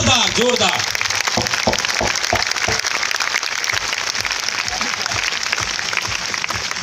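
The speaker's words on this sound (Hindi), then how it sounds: "हमारे सभी डायरेक्टर सर के लिए जोरदार ताली होना चाहिए दोस्तों, ताली जोरदार जोरदार।" Audience applause for a company's directors at a motivational business gathering, dense and steady clapping filling the room, with voices mixed in underneath.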